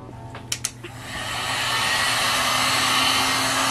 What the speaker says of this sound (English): Okay, so the heat gun is basically fixing it.